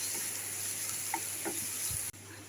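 Turmeric and chili powder fry in a pan for a Bangladeshi prawn kofta curry, giving a quiet sizzle with a few light utensil taps as they are stirred, with no voices.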